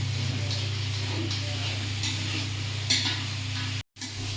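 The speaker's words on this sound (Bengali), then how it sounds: "এই যে বতকটা রান্না চলছে" Duck meat sizzles steadily in a kadai while a utensil stirs it, making a close, even hiss with scraping and soft clinks over a constant low hum, then a brief dropout.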